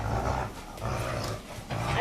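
A dog growls in low, rumbling bursts with short pauses between them, close by, while people talk around it.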